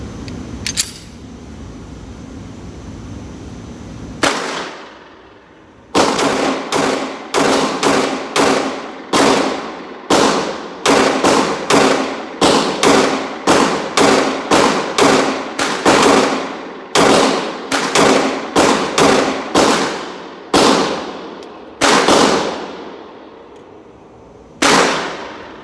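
A CZ P-10c pistol with a 15-round magazine fired repeatedly, sharp loud shots in quick irregular strings with short pauses between bursts, close and alone without talk.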